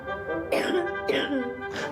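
A patient with asthma-like symptoms coughs in a GP's consultation room, three harsh, close bursts spaced about half a second apart, each with a raspy throat-clearing quality.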